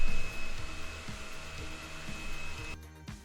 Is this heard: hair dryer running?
yes